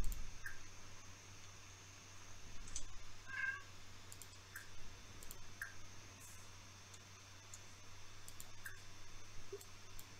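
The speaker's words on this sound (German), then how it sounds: "Ich sehe die Katze." Cat in The Sims 4 video game gives a few faint, brief meows spread across the stretch, with soft clicks over a low steady background hum.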